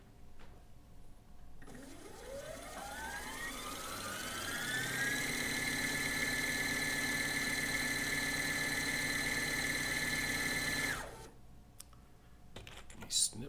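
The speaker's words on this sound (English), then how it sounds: "ready to wind that bobbin" A sewing machine winds a bobbin, its motor whirring up in pitch to a steady high hum for several seconds before stopping abruptly, followed by faint clicks.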